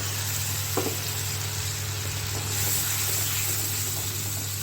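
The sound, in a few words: tomato, ginger and green chili paste frying in spices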